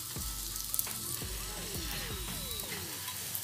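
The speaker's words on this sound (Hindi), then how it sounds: "अब हमने इसको नीचे से अच्छे तरीके से पकाना है। सा ऑयल डालेंगे।" Mooli paratha frying in oil on a hot pan, a steady close sizzle with crackling pops and soft scraping strokes throughout, no talking.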